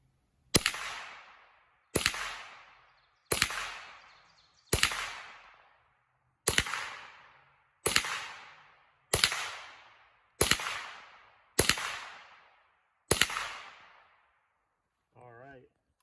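Ten sharp rimfire rifle shots fired with Winchester Silver Tip ammunition at an outdoor target range, evenly spaced about every second and a half, each a loud crack with a short decaying tail, followed by a brief faint noise at the end.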